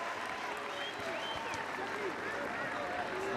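Rugby crowd at a Grey High versus Selborne school match applauding after a successful kick, a steady wash of clapping with some cheering that carries on for the whole stretch beneath a commentator's voice.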